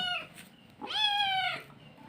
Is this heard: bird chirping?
no